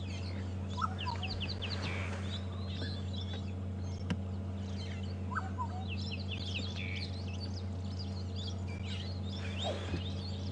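Parrot calls chirp and squawk repeatedly over a low steady hum, with a few sharper squawks standing out above the background, on a safari drive at Djuma and Arathusa.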